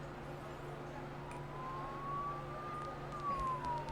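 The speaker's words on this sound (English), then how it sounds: "Don't those sirens sound really close?" A faint siren in a video game wails in the distance, its tone slowly rising and falling over a low rumbling background.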